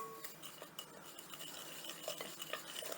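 Homemade coleslaw ingredients, dressed with mayonnaise, are stirred in a bowl, producing soft repeated scraping and light clinks of a utensil against the dish, quiet and close with no talking.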